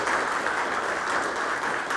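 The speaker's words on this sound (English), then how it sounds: "Round of applause, please" Steady audience applause at a network operators' meeting after a technical talk, an even wash of clapping sustained throughout at moderate level.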